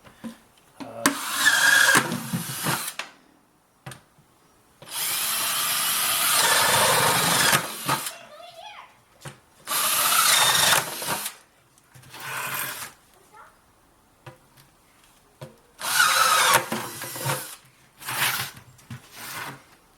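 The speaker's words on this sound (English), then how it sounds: "I might as well go ahead and drill it." Bursts of high-pitched power drilling through a plastic bucket, several runs of a few seconds each with short pauses between, close and loud.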